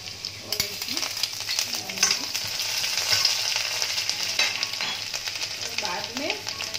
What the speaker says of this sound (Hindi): इसमें मैंने ये गार्लिक डाला है और ये अदरक है